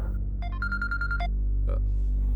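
A phone rings with a short electronic melody of rapid repeated tones, then a brief further chirp, heard over a steady low hum and background drone in a dubbed Hindi action film.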